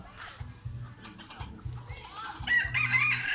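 Chickens clucking at a Thai temple, with short repeated clucks and calls building into a louder crowing burst near the end, heard close with faint voices in the background.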